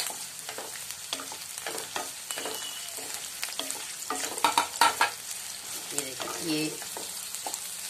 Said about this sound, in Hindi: अब इसमें मैं ये शिमला मिर्च जो हमने काट के रखा है वो डाल लेती हूँ